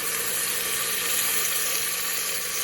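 Stock poured into a hot pan for Italian sausage, kale and bean soup gives a loud, steady broadband sizzle and hiss that holds unbroken throughout.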